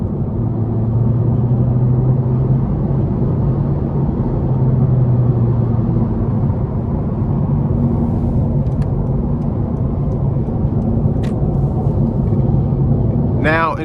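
A 2026 Honda Civic Hatchback Sport with its 2.0-litre four-cylinder engine drones steadily at cruising pace, a constant road and engine rumble running beneath a voice talking inside the car.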